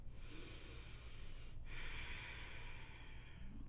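A single slow, deep breath drawn in and pushed out through the nose during a yoga flow, soft and close in an otherwise quiet room.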